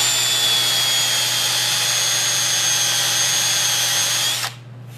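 A drill press whines steadily at close range for several seconds while drilling wood, then stops abruptly, leaving a low background hum.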